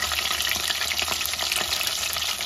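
Homemade chicken wings deep frying in hot oil, a dense, steady crackling sizzle with constant bubbling pops, close and continuous, no talking.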